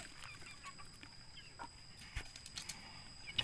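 Backyard chickens clucking softly while being fed at home, faint scattered clucks and pecking taps over a quiet background with a steady high hum.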